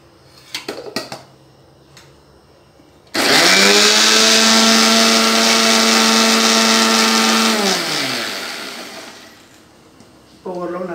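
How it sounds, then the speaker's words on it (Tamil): A mixer grinder blending aloe vera for juice roars to life suddenly and whirs loudly and steadily for several seconds, then winds down as the motor slows. "இப்போ வாங்க நம்ம மிக்ஸில் வச்சு அடிக்கலாம்"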